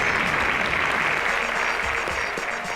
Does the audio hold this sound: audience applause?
yes